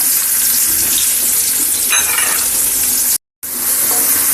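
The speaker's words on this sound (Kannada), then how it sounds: "ಇವಾಗ ಎಣ್ಣೆ ಕಾದಿದ್ದೆ ಇದಕ್ಕೆ ಕಟ್ ಮಾಡ್ಕೊಂಡಿದಂತೆ ಎರಡು ಈರುಳ್ಳಿ ಸೇರಿಸ್ಕೊಂಡು ಚೆನ್ನಾಗಿ ಫ್ರೈ ಮಾಡ್ಕೋತೀನಿ ಇದನ್ನ" Onions fry in hot oil with a dense, steady hiss that fills the clip, loud and close, broken briefly by a moment of silence near the end, with no voices.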